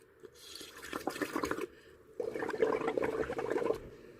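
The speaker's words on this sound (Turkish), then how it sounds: "Şimdi sırada leğenin içine koyarak pipetimizi üflemeye başlıyoruz." Someone blows through a straw into soapy water in a basin, making close gurgling, bubbling bursts in two separate runs with a short quiet gap between them.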